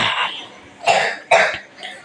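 A child with a cold coughs up close, giving three or four short, harsh coughs separated by brief pauses in a quiet room.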